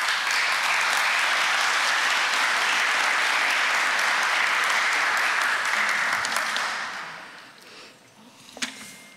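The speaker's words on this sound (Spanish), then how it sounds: "La recibimos con fuertes palmas." A forum audience gives a loud, sustained round of applause welcoming a speaker. The dense clapping holds steady for about six seconds, then tapers off into scattered claps and quiet room noise.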